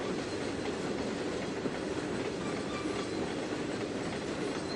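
Train rolling along rails in the video game Trainz 2022, a steady, moderate rumble with faint rhythmic clatter and a thin wheel squeal, continuous and without talk.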